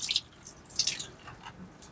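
Mountain water dripping from a tap in a small home garden, a few close bright drips and splashes falling irregularly over a quiet background.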